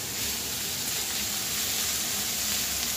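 Vegetables sautéing lightly in a pan for homemade fried rice give off a steady, soft sizzle and hiss, even and continuous with no talking.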